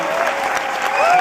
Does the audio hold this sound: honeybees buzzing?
no